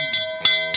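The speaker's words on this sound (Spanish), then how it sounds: "Suena la campana." A bell rings during a Chilean history discussion, striking twice in under a second with sustained metallic overtones that linger between the strikes.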